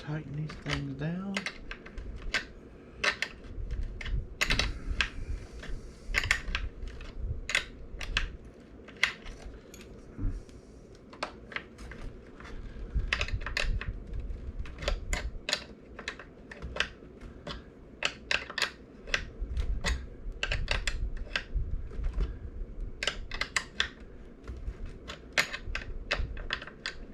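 Small metal clicks and taps from a 10mm wrench tightening bolts on the body posts of an X Maxx RC car, scattered sharp ticks over a faint background hum, close and intermittent.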